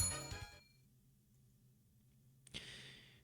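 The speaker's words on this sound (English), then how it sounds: "Crust gingerly rings the bell." Small bell rung to call someone in a video game kitchen scene, a bright chiming ring that decays and fades into quiet. It is followed by a soft rustle and a faint clink near the end.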